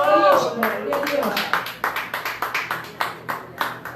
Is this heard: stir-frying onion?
no